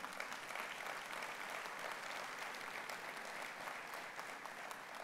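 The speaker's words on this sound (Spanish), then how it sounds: "Un aplauso para Jorge Muñiz." An audience at a book presentation in Peru gives sustained, even applause for Jorge Muñiz, a steady crowd of many clapping hands heard from a moderate distance, fairly quiet, with no speech on top.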